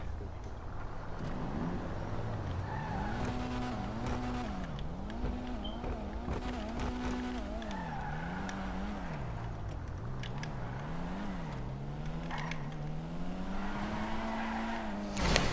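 An Issy rally car drives in GTA 5 Online, its engine whining up and down through repeated revs and shifts at steady loudness, with tire noise mixed in and no talk.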